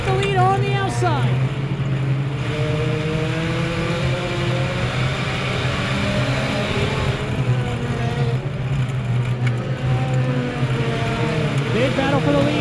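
Compact race cars in a dirt-track feature race, a dense continuous engine roar with rising and falling revs from several cars passing, and an announcer talking over the racing noise throughout.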